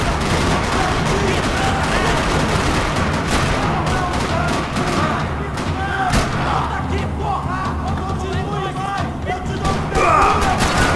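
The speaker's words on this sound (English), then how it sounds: "Another parking lot rattling with gunfire." Video game gunfire in a parking lot in Max Payne 3, a dense rattle of rapid shots, thuds and booms, loud and continuous with voices mixed in.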